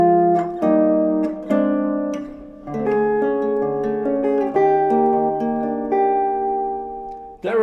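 Piano chords ring out, moving to a lush major 7 sharp 11 voicing and then resolving, with sustained tones fading between strikes, clear and close with no talking.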